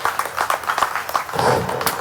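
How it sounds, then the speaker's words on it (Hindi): Audience claps hard and steady at a school reunion gathering, a dense patter of many hands that swells slightly toward the end, with faint voices mixed in. "जोरदार डबल तालियां बनती हैं"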